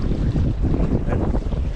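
Steady wind gusting across an open river at night, a loud, continuous low rushing roar buffeting the microphone throughout with no speech.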